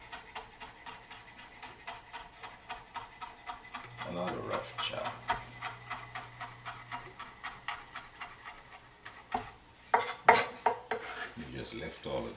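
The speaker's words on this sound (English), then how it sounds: "we just lay this on the board and give it a rough chop." A knife roughly chops lemon rind on a cutting board, giving a steady run of quick, fairly faint knocks that turn into louder, sharper hits near the end.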